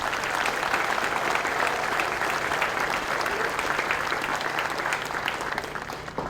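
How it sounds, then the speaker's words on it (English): A large audience at an Air Force basic training graduation ceremony breaks into loud, continuous applause for the parents, dense and even before tapering slightly at the end. "How about giving the parents a round of applause"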